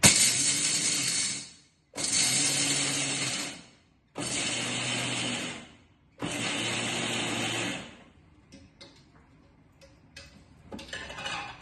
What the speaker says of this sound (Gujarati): હવે હું એને એક મિક્સરના જારમાં ગ્રાઇન્ડ કરી લઉં છું.